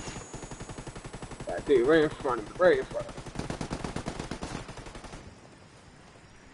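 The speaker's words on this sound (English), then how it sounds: "Taking heavy fire." Rapid bursts of automatic gunfire rattle in Ghost Recon Ghost War, a loud stretch of repeated shots that is briefly overlapped by a player's voice and then cut off abruptly.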